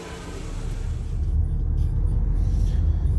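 A car drives along a road on the way home in Poland, with steady low engine rumble and road noise that swells slightly and holds loud throughout, no voices.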